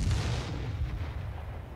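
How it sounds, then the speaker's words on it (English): Mortar fire and dull booming blasts rumble in a Company of Heroes 3 battle, a heavy low-end burst up front that fades into a continued distant rumble, with no voices. "now Ares getting a mortar out"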